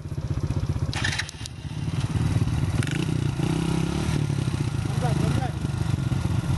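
A motorcycle on a rough trail climbs over a big rock, its engine droning steadily up close with scraping and clattering from the tires and chassis, while people talk over it.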